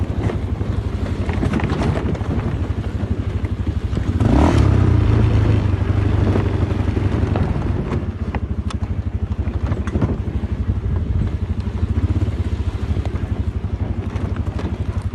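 A Kuba MX 220 motorcycle engine on a steep downhill forest road in the Bolu mountains, throttle eased off, a steady low drone with wind buffeting the microphone and a brief louder rev partway through.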